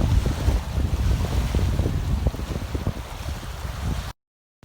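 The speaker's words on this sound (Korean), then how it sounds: "이렇게 바람소리와 물소리가 크게 들리는지 정말 몰랐어요" Strong wind buffets against the microphone while water rushes and laps nearby, a loud continuous roar that cuts off abruptly near the end.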